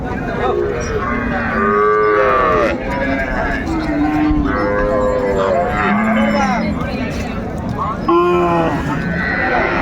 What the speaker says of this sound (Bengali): চমৎকার গাভি বাছুর আমরা দেখছিলাম সুন্দর